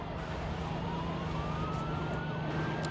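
Inside the BeamNG.drive driving game, a police car siren wails faintly behind a steady engine drone, its rising tone sweeping slowly through the background, with no talking.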